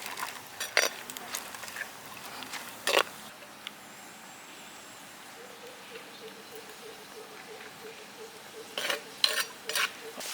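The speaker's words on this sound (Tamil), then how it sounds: "திராட்சையும் முந்திரியும் நல்லா நம்மளுக்கு வறுபட்டு வந்துருச்சு." Cashews and raisins roast in a pan with a faint low sizzle and intermittent spoon scrapes against metal, clustered at the start and end, quiet and close.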